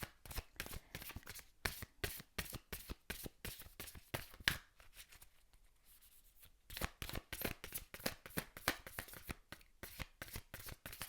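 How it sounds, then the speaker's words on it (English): A deck of cards riffled and handled up close, dense rapid flicking and snapping in two long runs separated by a quiet pause. "I'm just going to draw another card from another deck that I feel guided to."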